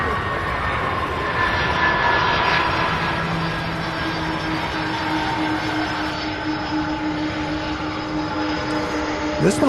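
Jet aircraft at Louisville airport, a sustained engine rumble with steady whining tones layered above it, moderately loud and even, with faint radio chatter in the background.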